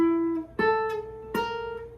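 Classical guitar line played with a brief silent gap between notes: a sustained low note fades out, then two plucked notes ring one after another, close and clear with no talk.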